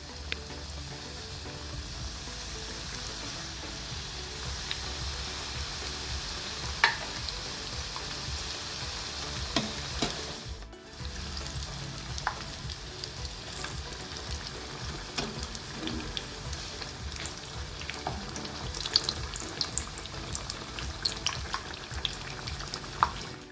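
Samosa-sheet egg puffs dropped one by one into hot oil give a faint, continuous crackling sizzle that holds steady for a long stretch without any talk.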